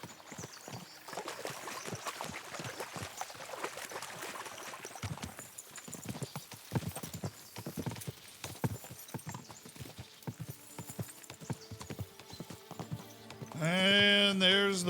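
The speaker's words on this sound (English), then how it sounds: "we'll give the horses a gallop again" Horses galloping in a video game, a rapid, close run of hoofbeats over a game soundscape, ending with a loud tonal cue.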